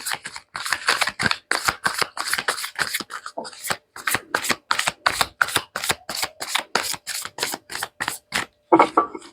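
A deck of tarot cards is shuffled close up in quick, rhythmic bursts of riffling and slapping, with brief pauses between passes and no talk.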